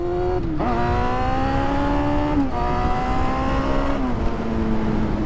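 A cafe racer motorcycle engine climbs steadily through the revs in three rising pulls separated by short gear-change dips, loud and close with no talking.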